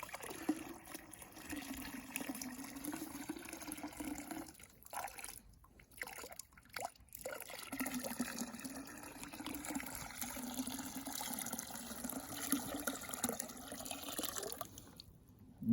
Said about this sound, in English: So I'm just going to pour the water out here.